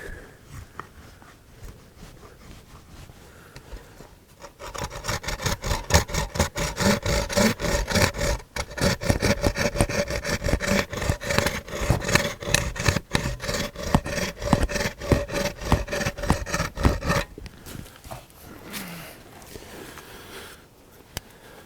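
Wood for a pack frame is sawn and rasped, a long run of close, rhythmic rough strokes that start after a quieter stretch and stop near the end.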